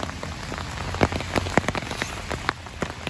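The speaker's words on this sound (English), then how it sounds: "No good because it's raining" Rain patters onto a woodland trail lined with tall trees, with close, irregular drops striking leaves and ground over a steady wet hiss.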